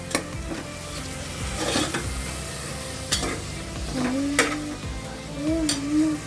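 Food is stirred in a hot pan with green chillies, tomato and curry leaves, a spoon scraping and clinking against the metal over a steady sizzle, close and moderately loud, with no talking.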